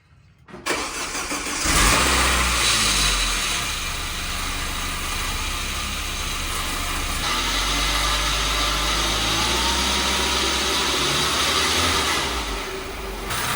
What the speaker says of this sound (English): we are ready to start this thing up and put the coolant back in and fill it with oil